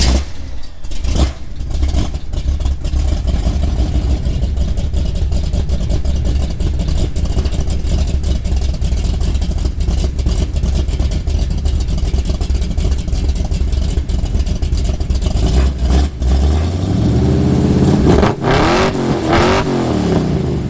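A 1972 Chevelle with a 454 big block engine rumbles loud and close through a 2.5-inch Magnaflow exhaust, a continuous heavy idle with revving swells, then a falling tone near the end.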